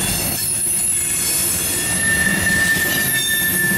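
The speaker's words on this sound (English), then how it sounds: "L648 is a markedly longer train than the last several F785s we recorded." A long CSX mixed freight train led by two ES44AH locomotives rolls steadily past, wheels squealing with a high metallic whine over a constant rumbling roar, loud and close throughout.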